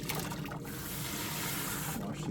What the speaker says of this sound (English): Wash these all off really well.